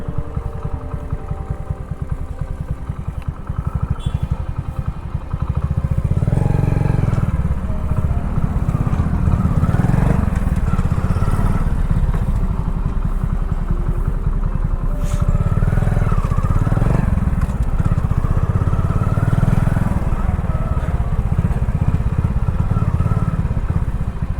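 A motorcycle engine drones steadily at close range on a forest route near a Kerala forest checkpoint, growing louder after a few seconds and holding a constant rough hum with no talking.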